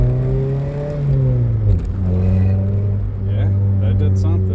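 A Toyota Corolla engine, 2003–2011 generation, revs after a vacuum leak repair, its steady drone rising and dipping midway before settling again, loud and close, with some talk over it.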